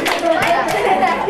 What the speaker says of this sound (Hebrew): תנו לו כפיים ככה חזק חזק